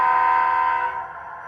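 Genesis SD60M HO scale model locomotive sounding a brief, loud sustained horn blast that fades away within about a second and a half.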